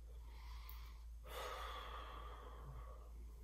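A person breathes slowly through a hip stretch, a soft exhale followed by a longer, louder breath out, close and quiet with no talk.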